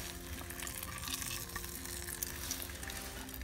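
Bread slices fry in a pan outdoors with a constant close sizzle and crackle, steady throughout and with no talking.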